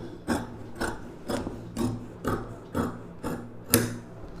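Scissors slicing through six stacked layers of blouse fabric at a tailoring table, with eight or nine steady rasping snips about half a second apart, close and moderately loud.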